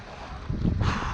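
Gusty wind buffets the microphone while paddle boarding on open water, a broad low rumble that swells and grows louder partway through.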